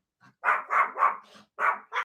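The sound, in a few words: dogs barking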